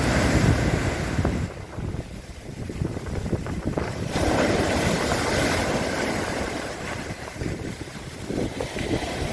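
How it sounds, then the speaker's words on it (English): Ocean waves wash in under cloudy, windy weather, with steady gusts buffeting the microphone and surf rising and falling in loud surges throughout. "a little bit of the waves and cloudy, windy"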